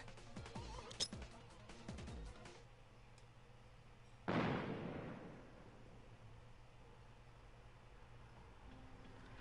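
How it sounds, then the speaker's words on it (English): An explosion in the video game Persona 3 Portable, a sudden broadband boom that decays slowly over a few seconds, preceded by scattered clicks and thumps of game audio, moderately faint. "A loud explosion sounded from below."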